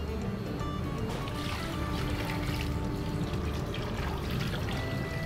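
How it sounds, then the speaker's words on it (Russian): Water pours steadily into a cooking pan in a kitchen, a continuous trickling splash that is moderately loud and close for several seconds, with no talking. "Добавим воды, да?"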